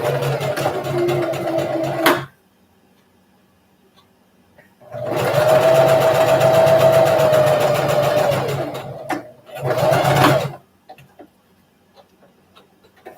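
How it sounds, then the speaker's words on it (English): A home sewing machine stitches a seam on pajamas in steady close whirring runs, about two seconds at first, then a longer burst from five to ten seconds with a brief pause, separated by quiet gaps. "This little lever up here makes my machine go in reverse"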